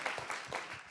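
Audience applause at a panel discussion, faint, quick patters of clapping from a small crowd, brief and somewhat distant.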